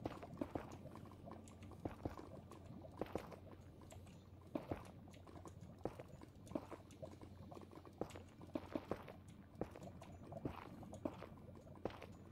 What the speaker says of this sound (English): Bubbling lava.